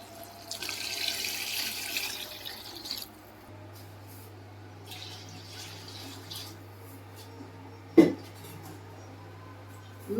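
Spiced masala water is poured from a jug into a pot for green gram pulao, a steady close splashing pour that eases off midway, followed by quieter trickling and a sharp knock near the end.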